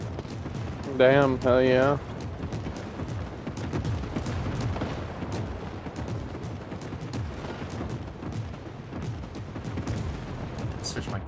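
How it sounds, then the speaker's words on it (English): Artillery fire in a shooter video game booms and cracks repeatedly over several seconds, a steady stream of loud impacts, with someone talking briefly over it. "Be advised, our artillery is commencing fire."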